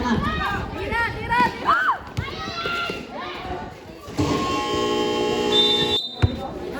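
A long, steady electronic basketball game buzzer sounds in the second half, following busy court noise with shouting and sneaker squeaks.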